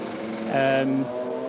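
A race car passes the line during a six-hour VLN endurance race at the Nürburgring, its engine note briefly rising and sweeping by at mid distance over steady background track noise.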